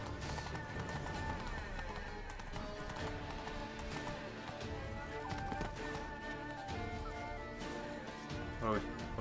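Geralt's horse Roach galloping in The Witcher 3: Blood & Wine, with steady hoofbeats and a whinny under continuous game music and shouting voices.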